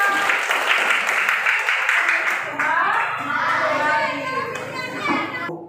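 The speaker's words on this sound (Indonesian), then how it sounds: "Oke, tepuk semua." Children in a primary school classroom clap together in a steady, busy burst that lasts several seconds, mixed with their chatter and a teacher's voice.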